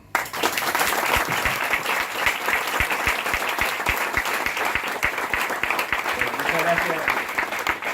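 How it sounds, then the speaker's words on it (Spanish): An audience welcomes Leandro Santoro, a UBA social sciences lecturer and Buenos Aires legislator, with a loud round of applause, dense sustained clapping with a few sharp individual claps and some voices mixed in. "Le damos un fuerte aplauso"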